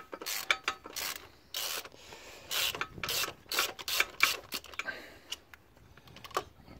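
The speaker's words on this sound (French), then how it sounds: "on met le cliquet. Alors, là, il est rentré. On dévisse, voilà." On a Ford Kuga 2.0 TDCi, a ratchet with an extension unscrews a bolt, giving crisp close clicking bursts of the pawl in an irregular rhythm with brief pauses between strokes.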